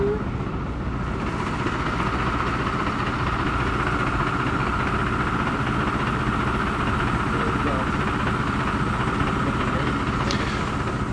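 An HLF 10 fire engine's motor idles steadily, a constant low rumble and hum with no change in pitch.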